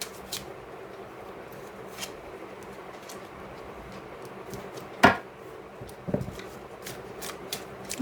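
Tarot cards are shuffled and drawn in soft, rapid riffling ticks, with one crisp snap and a few brief slides as cards come off the deck, close and quiet.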